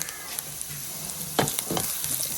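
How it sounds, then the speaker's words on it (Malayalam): Shallots, garlic and curry leaves sizzle in hot oil for a curry tempering, a steady fry with a few sharper crackles and stirring scrapes, close and alone. "കറി താളിക്കാൻ വേണ്ടിയിട്ട് ചെറിയ ഉള്ളിയും ചെറിയൊരു വെളുത്തുള്ളിയും കൂടി നല്ലോണം ഒന്ന് മൂപ്പിക്കുകയാണ്"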